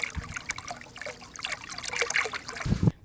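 Water trickles steadily in a small spring pool among large rocks where a stream once flowed, a close, continuous dribbling and splashing with a few louder splats near the end.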